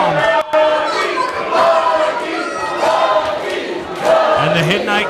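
Wrestling crowd at a live show in Hiddenite, cheering and shouting in loud swelling waves, close and continuous throughout.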